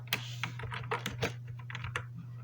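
Quick irregular keystrokes clatter close on a computer keyboard while code is typed, alone and fairly quiet over a low electrical hum.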